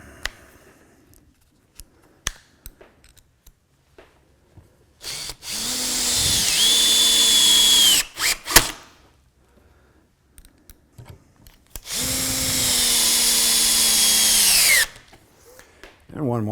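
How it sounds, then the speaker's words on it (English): Two long bursts of a power drill whining as it drives screws into clamped wood for a T-square router guide, each run ramping up and holding steady, separated by brief handling clicks and quiet. "Run a couple of screws into it."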